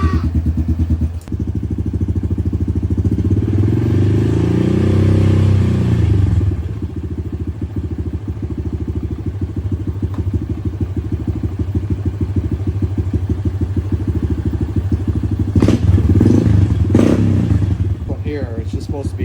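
A 2021 Honda CRF110 pit bike engine starts and runs at a steady idle with a few throttle blips, loud and close throughout, with a person talking over it.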